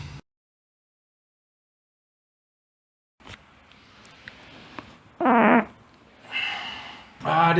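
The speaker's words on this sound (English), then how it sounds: "I just let one rip." After about three seconds of silence, a short fart sounds up close, followed by low rustling and brief vocal noises.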